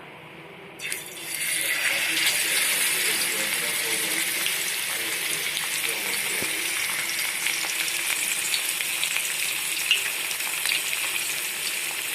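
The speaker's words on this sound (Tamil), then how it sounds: "இப்போ இதுல மீனை நம்ம பொரிக்கலாம்." Vanjaram (seer fish) hits hot oil on a flat griddle with a sudden crackle, then a steady, close sizzle and spatter continues throughout.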